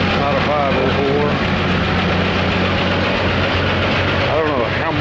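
A Minneapolis-Moline G-1000 six-plow propane tractor with a roughly 501 cubic inch engine, running with a loud, steady low rumble close by throughout.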